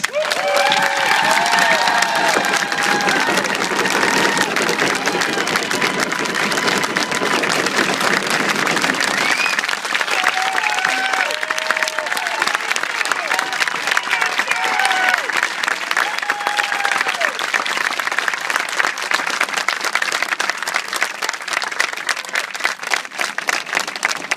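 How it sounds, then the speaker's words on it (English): Loud, sustained applause and cheering from a crowd at a sports field dedication in Pennington, New Jersey, honoring Mike, dense clapping throughout with voices and children's shouts mixed in, thinning slightly midway but continuing to the end. "Join me in thanking Mike again with your thunderous applause."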